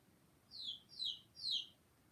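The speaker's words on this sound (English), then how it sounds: "See, that's a bird sound. That's not a chicken sound." A wild bird calls three times in an even rhythm, each note a short high chirp, faint and distant over a quiet low rumble.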